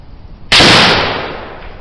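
A single sharp muzzleloader shot fired with homemade ash-charcoal black powder after a hang fire: quiet lead-in, then one loud close blast that decays over about a second.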